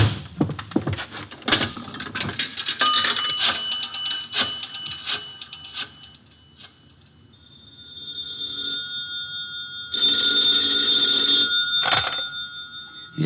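A telephone in a phone booth: clattering handling and rubbing noises first, then after a brief lull a steady tone rises and a bright telephone-like ringing sounds toward the end.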